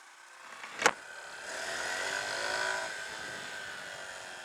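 A Honda Super Cub C125 motorcycle pulls away in a low first gear after a sharp click, its small engine rising to a steady, moderate drone before easing off.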